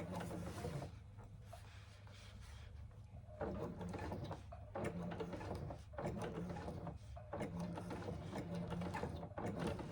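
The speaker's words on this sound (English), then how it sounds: "I'm just taking it stitch by stitch as slowly as I can just to get through the layers" A sewing machine works slowly through thick layers of a Scarlett Hobo bag from a Sallie Tomato pattern. It goes stitch by stitch in short, uneven bursts with brief pauses, close and moderately loud.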